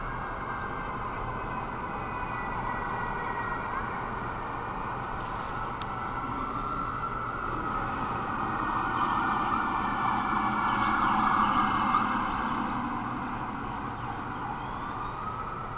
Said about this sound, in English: Here's the sounds of the city right now. Sirens.